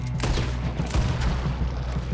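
Dense volley of gunfire in Red Dead Redemption 2, rapid overlapping shots and booms over a steady low rumble, loud and continuous throughout.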